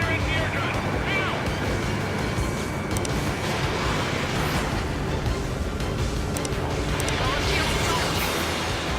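Ace Combat 7 jet combat fills the air with a constant roar of engines and wind, with a few sharp bursts that fit a missile launch and gunfire.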